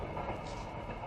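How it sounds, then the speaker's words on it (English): A Japanese suburban train running on rails past Expo '70 in Osaka, heard as a steady, loud, dense rumble and rolling roar filling the whole short moment, with no distinct clacks. "Japanese suburban trains are fast and frequent."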